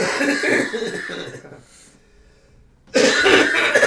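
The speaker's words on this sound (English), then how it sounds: "Old man cough." A few rough coughs burst out nearby, then a quiet pause before louder coughing and throat clearing resumes.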